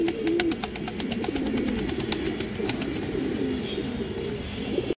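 A silver male pigeon coos steadily and close by, its low rolling calls repeating without pause, with busy flock chatter and light clicks around it.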